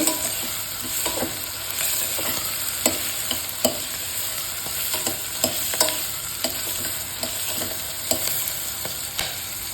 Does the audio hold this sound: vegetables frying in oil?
yes